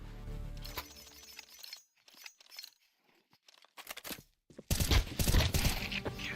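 Gunfire in a shooter video game during a league match: bursts of rapid shots at the start, then sparse single cracks, ending in a loud dense volley, all fairly close.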